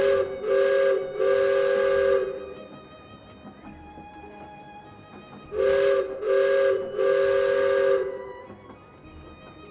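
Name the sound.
train whistle sound effect in a D&D session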